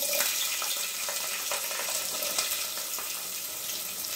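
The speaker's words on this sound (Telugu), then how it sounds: "అప్పుడు ఆనియన్స్ అయితే వేసుకోవాలి" Onions sizzling and crackling in hot oil with fenugreek and mustard seeds for a mango fish curry, a steady close frying hiss with faint pops throughout, no talking.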